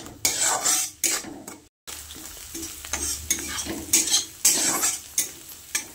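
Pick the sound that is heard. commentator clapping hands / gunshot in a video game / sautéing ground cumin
sautéing ground cumin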